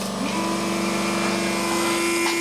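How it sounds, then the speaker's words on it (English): Cooling fan in a repaired Ruideng PSU unit, powered from a car battery, running noisily with a steady buzzing drone and a tonal hum throughout, close and constant. "The fan works, but it's noisy."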